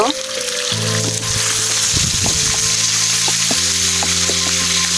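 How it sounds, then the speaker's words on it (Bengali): Turmeric, chili and salt coated fish frying in hot oil, a steady loud sizzle running throughout with a few stirring scrapes and clanks partway through. "আমি সর্বপ্রথম হলুদ মরিচ লবণ দিয়ে ভালোভাবে মাছগুলোকে মাখিয়ে সুন্দরভাবে ভেজে নিব"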